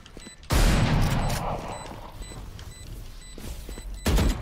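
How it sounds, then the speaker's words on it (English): Gunfire in a video game: a loud, close burst of shots erupts, fades into rattling echoes and scattered clicks, then a second heavy burst hits near the end, with players' voices briefly mixed in. "You shot a gun, EP."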